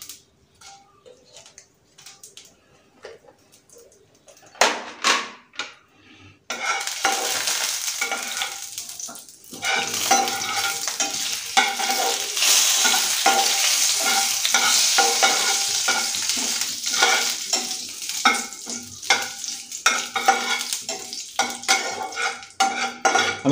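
Cumin, fennel, dry chilli and bay leaf fry in hot oil, starting with sparse clicks and utensil taps before a loud, sustained sizzle sets in with stirring scrapes, all close up and without talk.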